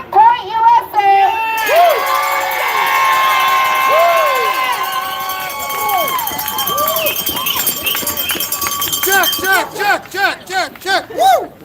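A rally crowd cheers, whoops and shouts loudly as a speaker named Jack is brought up, with voices and whistling carrying throughout and rhythmic bursts of claps near the end.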